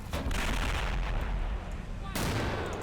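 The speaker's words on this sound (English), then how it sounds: "Every time a mortar fires, you're going to see a Canadian die." Mortar fire and gunfire in the Men of War: Assault Squad war game, a loud continuous rumble of battle with a sharp new blast near the end.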